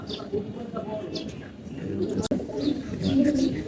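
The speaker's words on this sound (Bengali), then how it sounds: "একে একে চল্লিশ মিনিট পঁয়তাল্লিশ মিনিট ফ্লাই করে আমার কবুতর" Pigeons coo softly and repeatedly under someone speaking close by, with low throaty calls scattered through the clip.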